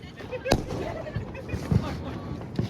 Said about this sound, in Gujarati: અહીંયા ડબલ ધડાકા ત્રિપલ ધડાકા જ કરે